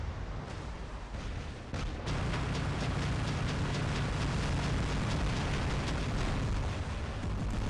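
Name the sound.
robot weapons firing and explosions in War Robots video game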